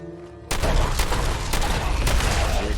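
Gunfire in Fallout 4, including an enhanced double-barrel shotgun, bursts in abruptly after a quiet opening and continues as a rapid volley of loud, sharp shots.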